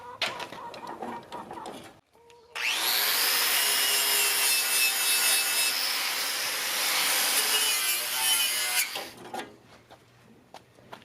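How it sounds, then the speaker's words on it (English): An angle grinder scours rust off metal van dust shields in a loud, steady, high-pitched grind of about six seconds, with brief handling sounds before it starts and after it stops. "gonna grind the dust shields, get all the rust off, paint them"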